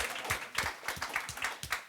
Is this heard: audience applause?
yes